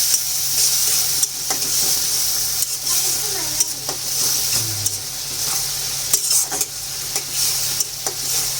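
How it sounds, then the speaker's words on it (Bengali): Red chili powder and turmeric powder stirred into a sizzling pan with garlic paste and ground coriander for a green papaya and egg bhuna. A steady close-up fry hiss runs throughout, with repeated scraping stirs and light utensil clinks, and no talking. "শুকনা মরিচের গুঁড়া, হলুদ গুঁড়া, ভালোভাবে মিশিয়ে নেব।"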